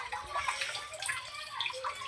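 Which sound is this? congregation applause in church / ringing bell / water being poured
water being poured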